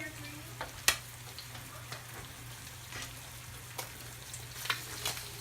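Fish fries in a pan with a steady, gentle sizzle and bubbling, punctuated by occasional sharper pops and light scraping clicks, close and moderately quiet.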